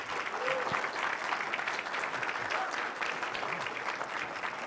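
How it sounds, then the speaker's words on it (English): Audience applause at a university graduate thesis competition final, a dense, steady wash of many hands clapping at moderate level through the whole stretch, with no voices rising above it. "So let's give a round of applause for all of our graduate students."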